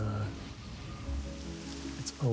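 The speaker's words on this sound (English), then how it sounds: "I feel like I never see rain here." Steady rain falls in World of Warcraft Classic near a village at night, a continuous moderate hiss of drops with a low ambient hum beneath, no talk.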